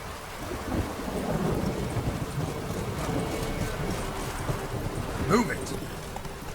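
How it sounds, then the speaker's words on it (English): Thunderstorm in The Witcher 3 video game, with steady heavy rain and rolling thunder throughout, then a sharp, close lightning crack near the end, all fairly loud. "Lightning strike?"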